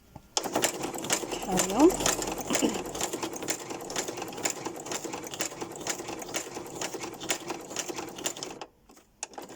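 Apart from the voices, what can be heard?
sewing machine sewing fabric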